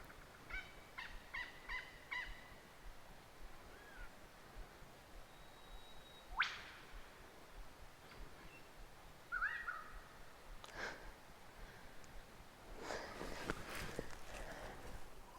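A superb lyrebird in a New South Wales gorge runs through its mimicked calls, a faint, distant series of varied whistles, chirps and harsh notes over quiet outdoor ambience.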